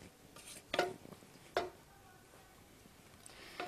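Spoon stirring a misal mixture of roasted masala with salt, lemon juice, tamarind pulp and water in a pot, giving two distinct scraping clinks against the metal amid quieter soft stirring.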